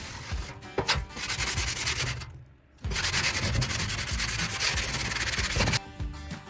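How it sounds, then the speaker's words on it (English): Steady abrasive rubbing of sandpaper across a rusty steel household item, scraping off old rust and dirt; the continuous rasping strokes sound close and loud, stop briefly for about half a second, then resume. "I'm going to clean and sand the surface to get rid of the rust to prep it before"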